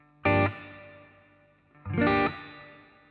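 Two strummed electric guitar chords ring out through an amp with plate reverb, each trailing off in a long, smooth reverb tail with a gap between them.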